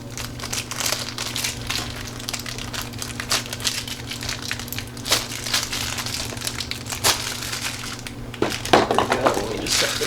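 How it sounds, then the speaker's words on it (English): Plastic wrapping is pulled off a 1/6 scale Hot Toys Mandalorian action figure during unboxing, giving close, continuous crinkling and crumpling with a louder rustle near the end, alone without talk. "We'll pull the plastic out."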